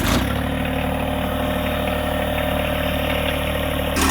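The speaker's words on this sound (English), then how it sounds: "I want you to notice that at an idle, when I start this tractor, how quick the hydraulics work the front bucket." A compact tractor's small diesel engine, a John Deere 1025R or Kubota BX23, runs at a steady close idle, a constant low droning rumble that eases slightly at the end.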